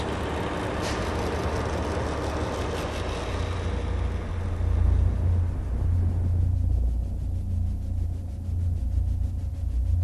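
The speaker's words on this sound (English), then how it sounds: "The ceiling rumbles upwards" An air-pressure roof lift raises a building's ceiling with a loud, continuous low rumble, a broad steady roar that shifts in tone partway through.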